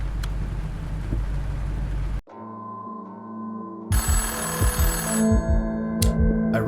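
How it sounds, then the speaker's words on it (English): A telephone rings inside a flat in the game Threshold of Awakening, repeated electronic bell-like rings after a hard cut from a noisy passage, with clinking effects rising around the later rings. "I can already hear the phone ringing"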